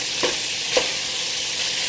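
Meat sizzles and fries in a pan with a steady, bright hiss, and two brief stirring scrapes rise above it. Noodles are boiling alongside, and no one speaks.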